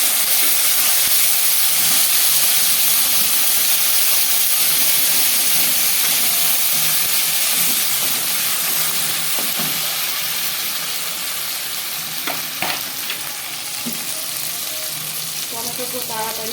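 Chopped tomato and ginger paste fry in a pan with a steady, loud sizzle and hiss that eases slightly toward the end, broken by a few sharp clicks of a utensil.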